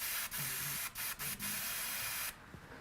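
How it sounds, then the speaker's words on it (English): An airbrush sprays fluorescent green paint in a steady, loud hiss, broken by several brief pauses as the trigger is released, then cutting off abruptly near the end. "you're going to spray out the green."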